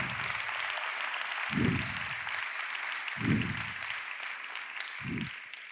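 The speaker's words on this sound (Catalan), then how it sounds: "un aplaudiment pels músics i ballarins" Audience applause for musicians and dancers at a tribute concert, a steady dense clapping sustained throughout, with three low thumping bursts standing out at intervals beneath it.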